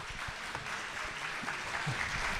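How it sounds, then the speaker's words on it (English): An audience at a live debate event in Seattle applauds, a dense steady patter of clapping from a crowd, continuous and moderately close for a couple of seconds. "Give David a round of applause."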